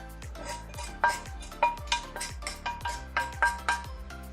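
Roasted semolina scraped from a flat tawa into a vessel for rava laddu, a string of light metallic clinks and scrapes in an uneven rhythm, close and fairly quiet with no talking.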